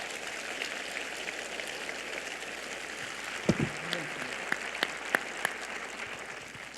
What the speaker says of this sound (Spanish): vamos a aplaudirle bien fuerte a nuestro Señor.